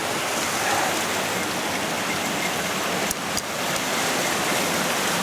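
A waterfall in a cold winter setting in Japan, with ice and icicles forming nearby, gives off a steady, dense rushing roar that holds at one level throughout, briefly dipping for a moment before resuming, with no voices.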